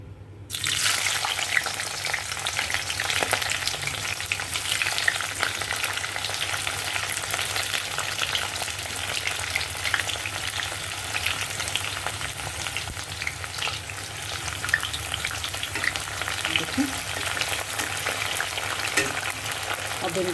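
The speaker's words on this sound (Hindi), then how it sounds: "अब इनको भी इस तरीके से गोल्डन ब्राउन कर लेंगे" Brinjal pieces fry steadily in hot oil while they turn golden brown for a pickle, a dense continuous sizzle that runs loud and even throughout, with occasional stirring and no talk.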